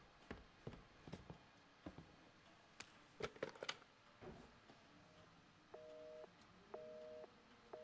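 Telephone busy signal in the video game Resident Evil 7, repeating beeping tones in steady on-off bursts near the end, after scattered clicks and knocks, fairly quiet.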